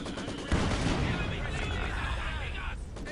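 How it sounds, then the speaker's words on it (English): Sustained machine gun fire in Company of Heroes 2, a dense continuous crackle of rapid shots with distant battle noise beneath, loud and unbroken for about three seconds before easing slightly at the end. "machine gun fire."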